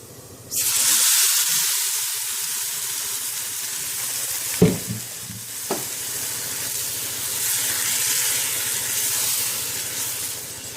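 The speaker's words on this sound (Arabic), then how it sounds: "دلوقتي بقى معايا طماطم انا ضرباها في الخلاط، هتش بيها" Blended tomatoes pour into a hot pan of fried pasta and set off a loud, steady sizzle and hiss, broken by a few sharp clatters of stirring, with no voices.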